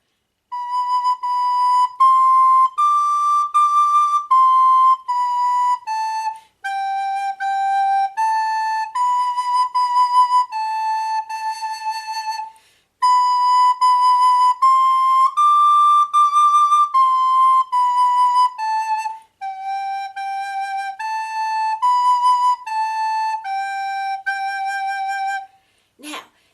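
A recorder plays a simple melody of clear, sustained notes in two phrases with a short pause between them, solo and close.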